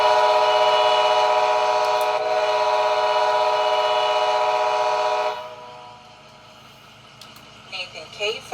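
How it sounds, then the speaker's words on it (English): A K5LA air horn on an ACS-64 electric locomotive blasts in one loud, sustained chord for about five seconds, then cuts off, leaving a quiet rumble with faint ticks. "K5LA ACS 64 Highhorn."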